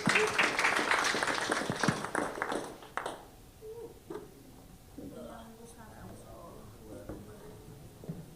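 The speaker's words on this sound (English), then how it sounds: "let's give Joseph a big round of applause" An audience at a military-connected mentorship meetup breaks into applause, a dense wash of clapping for the first three seconds that fades out, followed by scattered talking.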